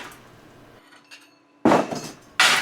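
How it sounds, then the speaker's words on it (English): A hammer tapping dross off quarter-inch plasma-cut steel, two sharp metallic strikes ringing out after a quiet stretch with faint clinks, close and loud, no talking. "A little tappa with a hammer, and what little dross that was on there is gone"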